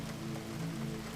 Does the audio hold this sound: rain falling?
yes